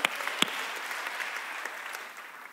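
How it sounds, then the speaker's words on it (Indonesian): A church congregation claps during a worship service, a soft, continuous patter of applause with a couple of sharper claps near the start, heard at a distance. "tepuk tangan bagi Allah kita."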